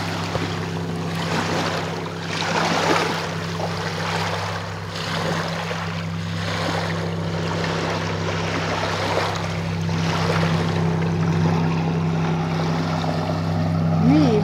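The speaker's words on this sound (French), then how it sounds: "C'est paisible d'entendre les vagues." Waves wash onto a lakeside shore near the edge of town in slow, soft surges, with a steady low boat engine drone running underneath throughout and no talk.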